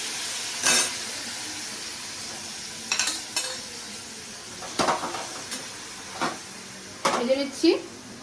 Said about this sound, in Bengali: তাহলে এখন আমি কলার ভাড়ালিগুলোকে ভেজে নিচ্ছি